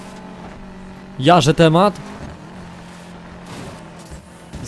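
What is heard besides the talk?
car engine in video game Need For Speed Payback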